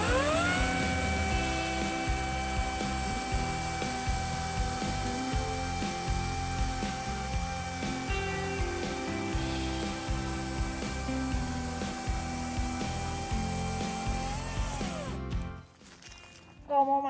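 A Parkside Performance 40V cordless chainsaw cuts through a log, its motor running steadily and loud for about fifteen seconds with a rough, uneven grinding chatter, then stopping abruptly.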